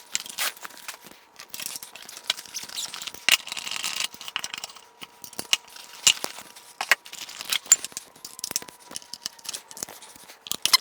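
Cables and hardware on an RCF Evox 12 speaker system being handled during setup, giving scattered clicks, rattles and light metallic clinks at close range, with no talking.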